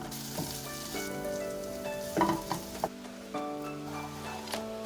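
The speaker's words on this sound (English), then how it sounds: "we're gonna give this a nice fry. Cook it until it's heated through and the oil has a nice color to it" Malaysian sambal fries in hot oil in a pan, giving a steady, close sizzle with a few louder crackling spurts, and a tonal hum underneath throughout.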